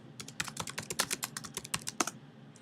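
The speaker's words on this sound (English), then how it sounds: "type hello" Rapid typing on a computer keyboard while demoing a websocket client, a steady run of close, crisp key clicks with no talking.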